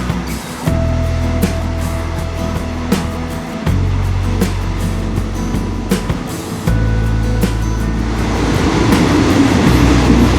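A newer passenger train carriage rolls along rails in Thailand, a loud, continuous rumble with low engine drone and repeated clunks from the track joints, with no talking.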